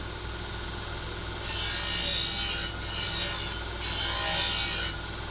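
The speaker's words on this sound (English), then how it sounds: "with the Scotch-Brite blending wheel, you can do all of that in just a few seconds" A Scotch-Brite blending wheel dresses the damaged edge of a Dalstrong knife, giving a steady abrasive rubbing hiss that swells louder in two brief passes over a constant motor hum, with no talking.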